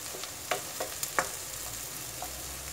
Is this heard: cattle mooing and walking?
no